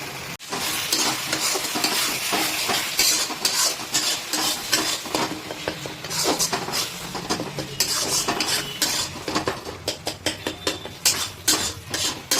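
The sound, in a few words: spice paste frying in fish oil while stirring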